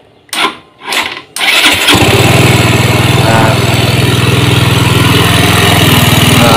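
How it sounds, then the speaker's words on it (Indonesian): A Yamaha GT 125 motorcycle engine is started after a couple of short cranking bursts, catching and settling into a loud, steady, fairly high idle that runs to the end, close by and without talk. "kita hidupkan mesin."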